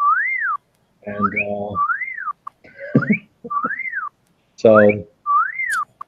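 Repeated rising-and-falling whistle tones, four distinct swoops spaced between bursts of someone talking, loud and close.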